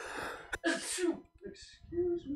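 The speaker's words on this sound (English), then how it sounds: "That was a sneeze" A single loud sneeze bursts out close to the microphone, followed at once by a person speaking briefly.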